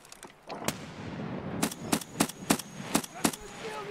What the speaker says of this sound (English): Someone just threw a grenade.